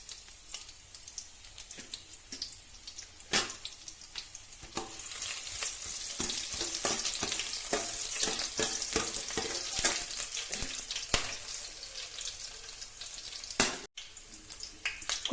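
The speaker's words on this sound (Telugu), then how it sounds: "తాలింపు గింజలు, ఆనియన్ వేసుకుంటున్నాము" Tempering seeds and onion dropped into hot oil for a pulusu curry, a steady close sizzle that swells louder midway, dotted with sharp pops, crackles and a few utensil taps.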